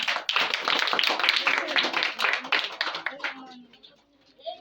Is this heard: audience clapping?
yes